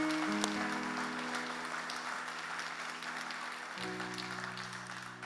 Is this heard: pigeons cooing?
no